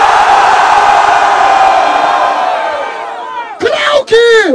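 A large crowd at a Brazilian rap battle in Barueri roars in a long, loud sustained shout of cheering, fading slightly before a host's amplified voice cuts in with excited calls near the end.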